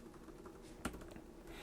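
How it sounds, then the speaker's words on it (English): Quiet keystrokes on a computer keyboard while setting up a Raspberry Pi robot car over the network, with a single sharper key press standing out against soft background hum. "I'm typing"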